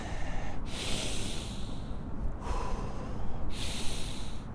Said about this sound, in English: Breathe into the heart.